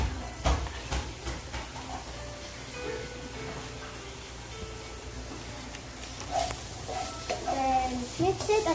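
Garlic frying in a pan for honey garlic buttered shrimp gives a steady hiss and sizzle with scattered pops and clicks, under a person talking.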